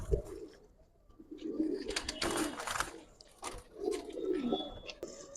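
Giribaz pigeons cooing in soft, repeated throaty phrases, close by, with faint background rustle and a quiet voice under the calls.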